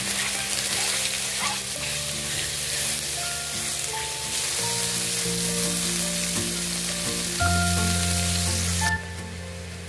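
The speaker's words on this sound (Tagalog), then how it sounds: "ilagay na natin sa kawali yung minarinade natin na breast chicken fajita. Yan guys, may oil siya." Marinated chicken breast fajita sizzles in an oiled pan, a loud, steady hiss lasting throughout with background music playing, then quieting sharply near the end.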